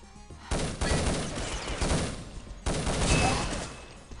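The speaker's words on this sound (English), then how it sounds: "Such accurate shooting here with the UMP." A UMP submachine gun fires in two rapid bursts in a competitive video game match, each a dense, loud rattle of shots, with a short pause between them.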